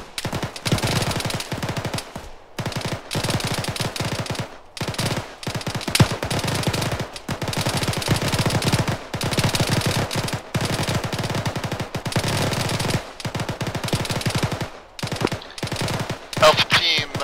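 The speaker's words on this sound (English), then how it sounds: "Got audibles on shots from northwest." Rapid automatic gunfire from the military shooter ArmA 3, loud sustained bursts and fusillades continuing almost without pause, with brief gaps between volleys.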